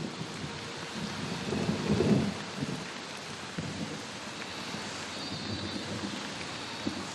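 Heavy monsoon rain pours steadily at the edge of a jungle while deep thunder rumbles and swells early on, then fades into the constant hiss of rainfall.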